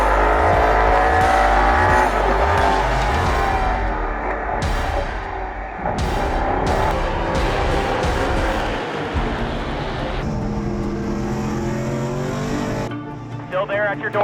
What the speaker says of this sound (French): le numéro 24, Thomas Neveu, ferme un peu trop tôt et c'est le dérapage.